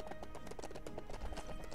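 Horses gallop in the LEGO Lord of the Rings video game, their hooves making a quick, steady clip-clop rhythm that stays fairly quiet throughout.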